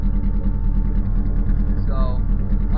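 A car engine idling while it warms up, a loud, steady low rumble close by, with a brief whining sweep near the end.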